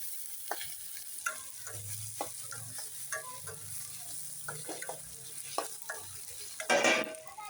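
Tomatoes sautéing in a pan for prawn gravy, a soft steady sizzle with light, scattered stirring taps and a louder scrape near the end, fairly quiet and with no speech.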